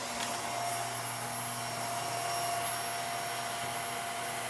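A vacuum cleaner motor runs at close range in a steady, loud, continuous whine and roar, measured right beside the motor during testing of VacuMaid, Bissell and InterVac machines.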